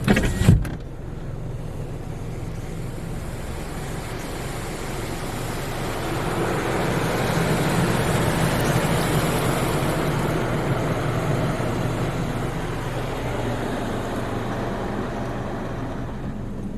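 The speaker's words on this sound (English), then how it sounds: "And the wash is still going." A Ryko SoftGloss XS 2 automatic car wash runs at a car wash in Windsor, Colorado, heard from inside the car as a steady mechanical whir and hum. There is a sharp knock at the start, then the sound swells slightly midway, with no talk.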